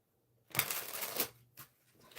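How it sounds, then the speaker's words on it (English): Tarot cards being shuffled by hand, a dry riffling rustle in two bursts, the first longer and louder, with near silence before and brief softer flicks after. "One more shuffle."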